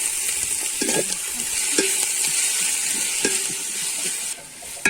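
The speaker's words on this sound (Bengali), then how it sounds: "ওই ঘিটাতেই পেঁয়াজটা দিয়ে দিচ্ছি, এবার বেরেস্তাটা করে নেবো" Onions fry in ghee for beresta with a steady, bright sizzle, while a few soft stirring scrapes land at intervals and no one speaks.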